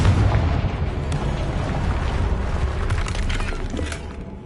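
A Confringo blasting spell goes off in Hogwarts Legacy, a dense rumbling explosion with crackling debris that starts loud and slowly fades over several seconds.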